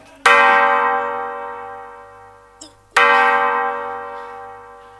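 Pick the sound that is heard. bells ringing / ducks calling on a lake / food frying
bells ringing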